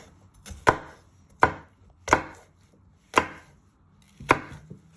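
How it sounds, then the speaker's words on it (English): A knife finely slices peppers into thin pieces on a cutting board, giving five distinct, close chopping thuds spaced at an unhurried, fairly even rhythm with quiet gaps between. "And you just want to finely slice them."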